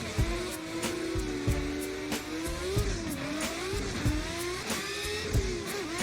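A sim-racing car drifts with a steady engine drone rising and dipping through revs, punctuated by regular sharp clicks of gear shifts or handbrake and faint tire squeal, with no talking.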